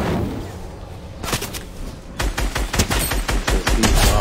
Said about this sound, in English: Oh shit, someone's trying to shoot me.